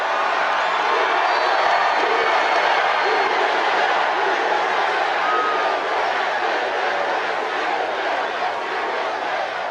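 A large crowd at a political rally in Gastonia, North Carolina, cheers and whoops as a dense, continuous roar that fills the space from start to end, loud and sustained.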